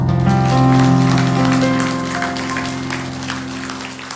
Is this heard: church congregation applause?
yes